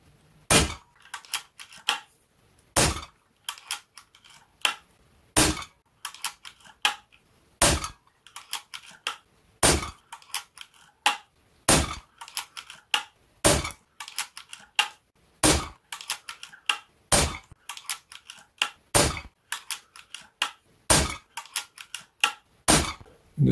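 A Zbroia Kozak bullpup rifle fires a long string of sharp, loud single shots at uneven intervals, each crack followed by brief echo and lighter clinks between them, with no talking.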